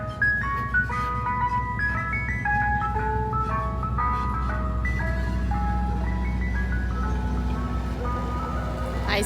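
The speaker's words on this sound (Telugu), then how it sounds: "నేను అలా పూజకి వెళ్ళేసి వస్తుంటే ఐస్ క్రీమ్ ట్రక్ వస్తుంది అనమాట." An ice cream truck plays its chiming melody loudly and steadily over a low engine rumble, the tune running clearly from start to finish with no talk.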